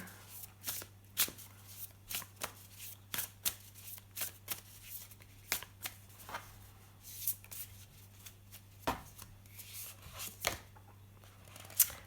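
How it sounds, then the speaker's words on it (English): Tarot cards are shuffled by hand in a steady run of soft, papery riffles and taps, close and fairly quiet, with a low steady hum underneath and no talking. "So let's just pull you 2 more cards from here."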